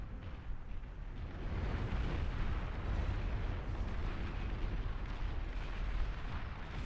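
Tremor artillery units in the strategy game Beyond All Reason firing continuously, a dense, steady rumble of overlapping distant blasts with no clear gaps.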